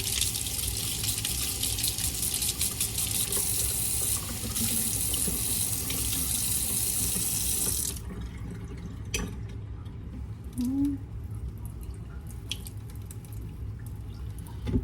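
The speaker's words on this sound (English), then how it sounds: "a tablespoon of water." Kitchen tap running water into a tablespoon while making an egg wash for a rhubarb pie, a loud steady splashing stream that cuts off abruptly halfway, followed by quieter drips and small clinks.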